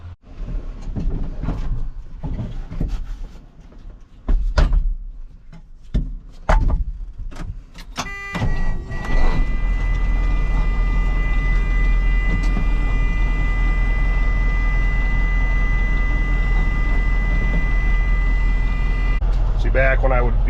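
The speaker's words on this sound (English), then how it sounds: "I'm going to see if I can get this to yard drive at least and go in gear like it's supposed to" An old truck with a stuck clutch is forced into gear: a few heavy clunks and knocks, then the engine settles into a loud, steady running drone as the truck moves off.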